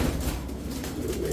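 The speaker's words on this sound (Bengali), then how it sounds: "ডাউন শেপের একটা নর কবুতর, লাল গিয়ারের, লাল গিয়ার।" A male giribaj pigeon with a down-shaped build and red eyes coos nearby, a low throaty rumble blending with other birds in a loft.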